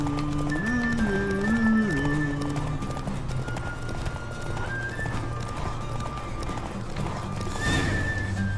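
Horse hooves clip-clop at a steady galloping rhythm during a race in The Witcher 3, with a few whinnies and neighs rising over the loud, continuous in-game hoofbeats.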